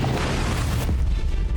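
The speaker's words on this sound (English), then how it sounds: "drop little explosives into the bags of blood within" Small practical-effect explosives burst blood bags on a film set, a dense crashing burst with a sharp crack near the middle, loud and close with no talking.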